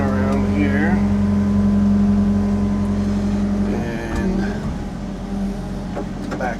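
Small excavator working at a big pond, its diesel engine droning loud and steady as it swings around, then shifting pitch and rumbling as it starts backing away, with scattered clanks and creaks from the machine.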